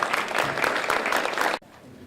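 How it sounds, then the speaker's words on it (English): Audience applause at an evening event for San Jose mayoral candidates, a dense crowd clapping steadily for about one and a half seconds before cutting off sharply to a quiet room. "please give him a round of applause"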